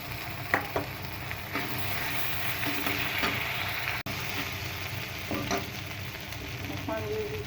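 Ginger garlic paste frying in hot oil with fried onion paste for an egg curry, a continuous loud sizzle with the scrape of a spatula and a few knocks against the pan, and no voices.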